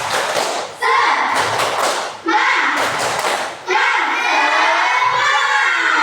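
Children in a classroom perform a rhythmic clap-and-shout spirit chant, loud bursts of group shouting and clapping in three close waves, energetic and near.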